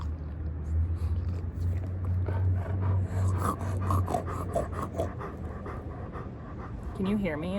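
A dog's wet, rhythmic mouth breathing and panting runs close up through the scene, steady and fairly loud, while someone speaks over it in a mild voice, breaking into a sing-song tone near the end.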